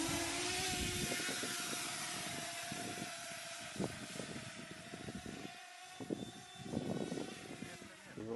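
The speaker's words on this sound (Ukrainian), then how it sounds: "Після майстерні роботу дронів зенітники ретельно перевіряють." Small FPV drone propellers whir through a steady, loud buzzing drone during an anti-aircraft unit's test flight, holding near and continuous throughout with slight swells and dips.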